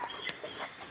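A chicken at a Thai temple clucks in a few short, soft calls over a steady background hiss, fairly faint and close, with no talking.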